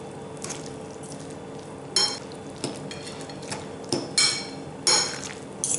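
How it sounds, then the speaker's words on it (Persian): Two forks stir and clink through macaroni salad ingredients (pickles, egg and bologna) in a bowl, giving soft scraping with a few sharper metallic taps at irregular intervals, close by and with no voices. "حالا با 2 تا چنگال این مواد رو کاملا با هم دیگه مخلوطشون میکنه"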